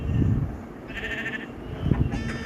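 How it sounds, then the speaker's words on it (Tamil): Sheep in the Minecraft video game bleat twice in short wavering cries, near and fairly clear over a low background rumble, with no speech. "அது ஒரு ஆடு"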